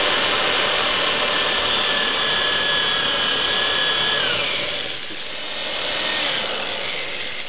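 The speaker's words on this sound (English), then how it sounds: "we're going to drill the holes in the top." A drill boring holes through the top of a sealed battery case, a steady whirring grind that runs continuously and dips briefly in strength before picking back up, close and loud with no talk.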